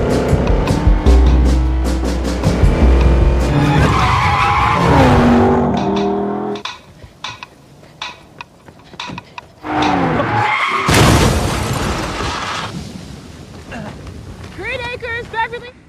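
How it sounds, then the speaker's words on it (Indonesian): Car chase in a film, with a white car fleeing pursuers: loud engine roar and screeching, skidding tires, then a brief lull before more tire squeals and revving at close range. "Willa kabur pakai mobil putih dan dikejar tim."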